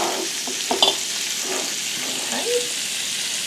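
Sausage browning in a frying pan gives a steady broadband sizzle with a few scraping stirs and small pops, close and fairly constant throughout, with no one talking.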